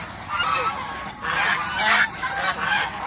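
Geese honking nearby in loud, harsh bursts, several calls overlapping in a few clustered outbursts.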